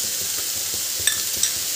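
Boiled potato being stirred into sautéed vegetables in a hot pan, with a steady sizzle and soft scraping strokes plus a couple of light clinks of the spoon against the pan.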